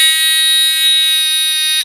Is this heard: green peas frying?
no